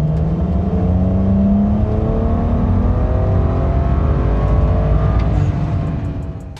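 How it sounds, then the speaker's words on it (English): A BMW 335i at full throttle in third gear surges hard, the engine note climbing steadily in pitch as it pulls. The sound is loud and close, then eases off at the very end. "and then you floor it."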